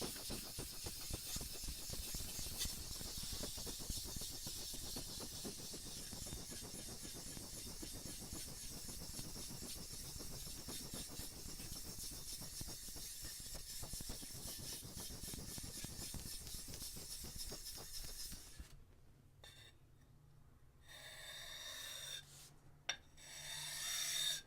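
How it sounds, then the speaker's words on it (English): A Cerax 1000 whetstone being lapped flat on a DMT 325 grit diamond plate, giving a steady, close gritty rasping scrape that runs continuously for most of the time before stopping, with a few faint knocks after. "what I want to do now is just lap it just to make sure that it's nice and flat. And what I'm using is a DMT"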